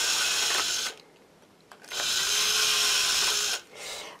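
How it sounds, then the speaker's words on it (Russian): A power drill bores through a seashell, whining in two long bursts split by a short pause, with a brief third burst at the end, close and fairly loud with no talk. "теперь нужно досверлить, чтобы полностью можно было продеть нить. Очень долго сверлить"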